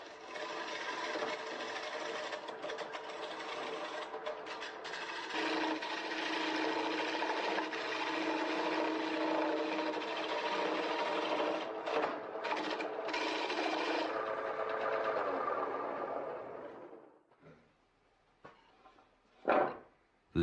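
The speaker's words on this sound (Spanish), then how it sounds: "Cuando el granjero trabaja en el torno, el olor a madera fresca invade el ambiente." A farmer turns fresh wood on a lathe, and a steady, loud scraping and whirring goes on for about seventeen seconds. It then stops, leaving a few faint knocks and one sharp thump near the end.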